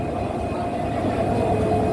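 The Subarna Express locomotive engine on the Chittagong to Dhaka line, a steady, close, low mechanical rumble and hum that holds without a break and has no voices over it.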